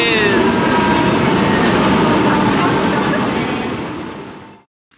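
Shinkansen bullet train pulling into a station in Hokkaido, a loud close rushing rumble with faint rail squeals that gradually fades as it slows, ending in near silence.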